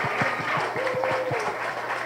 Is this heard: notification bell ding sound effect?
no